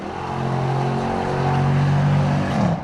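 A 2008 Dodge Challenger with a Hemi V8 accelerating hard, a loud, deep, steady engine roar close by that rises slightly in pitch, with no talking.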